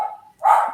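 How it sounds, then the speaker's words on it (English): A single dog bark, fairly full and close, rings out briefly after a quieter tonal sound, with no talk over it. "I can hear a dog barking somewhere."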